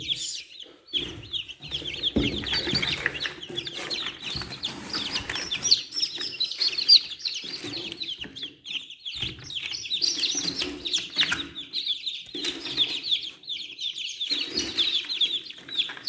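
Many baby chicks peep constantly inside a homemade incubator in high, overlapping chirps, with soft rustling and occasional bumps close by.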